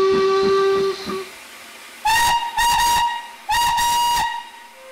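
A steady steam hiss from a steam train on the North Yorkshire Moors Railway gives way to three sharp, loud whistle blasts in quick succession, close by and otherwise free of voices.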